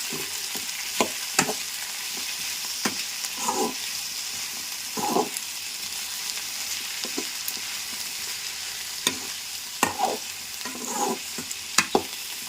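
Continuous sizzling of cucumber curry frying in a pan with salt and chili, with intermittent scraping and clinking of a spoon stirring every second or two.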